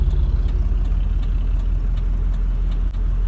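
A loud truck engine runs steadily with a deep low rumble and a faint regular ticking pulse, heard close up and alone.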